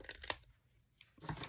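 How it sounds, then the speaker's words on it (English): Small scissors give a few quick, crisp snips as they trim a paper overhang on a handmade junk journal pocket, close and fairly quiet, separated by short pauses. "So I'm going to just grab my little scissors here"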